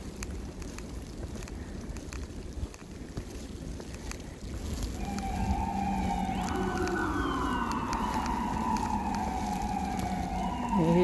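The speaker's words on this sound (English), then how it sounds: "you hear the sirens of ambulances because I live not far from the hospital." Ambulance sirens wail from the distance near a hospital during a snowstorm walk in a park, a rising and falling tone that swells in from about halfway through and grows louder toward the end over steady background noise.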